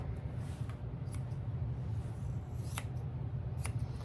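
Quiet snips of thinning scissors trimming the hair on a dog's foot, a handful of crisp irregular cuts, over a constant low rumble of background noise.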